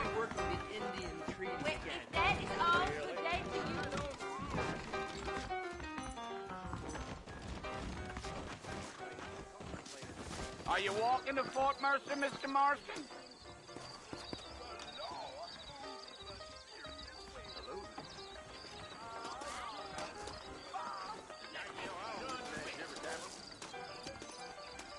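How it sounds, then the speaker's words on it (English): Saddled horses ride at a steady pace in the Western video game Red Dead Redemption, hooves clip-clopping beneath continuous conversation, with a brief harder clatter of hoofbeats midway and a whinny. "I got the horses saddled up and ready out front."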